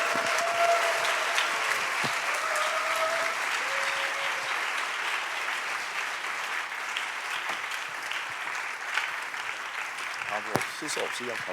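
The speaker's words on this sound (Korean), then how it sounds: "우리 박수로 환영하겠습니다." A church young-adult congregation gives steady, full applause to welcome a guest missionary pastor. The clapping lasts the whole span, and faint voices and brief tones sit under it.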